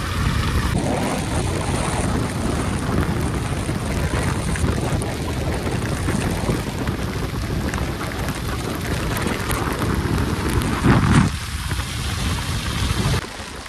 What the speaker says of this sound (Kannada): ಮಳೆ ಜೋರು ಬರೈತೆ ನಂಗೆ.